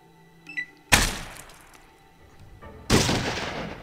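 Revolver gunfire in Fallout 2, heard as two loud, sharp broadband blasts about two seconds apart, each followed by a decaying rumble, with a few faint clicks before the first shot.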